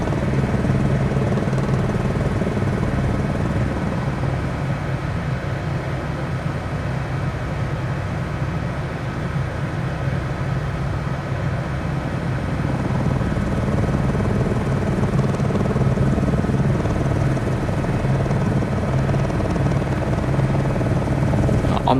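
Helicopter in Microsoft Flight Simulator 2020 cruising and slowing down, a continuous turbine whine and low rotor rumble at steady loudness for over twenty seconds.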